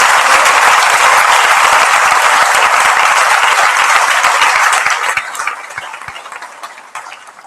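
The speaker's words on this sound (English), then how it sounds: "So can we put our hands together and give them a round of applause" An audience at a secondary school prizegiving claps loudly and densely for several seconds, then the applause thins into scattered individual claps that trail off toward the end.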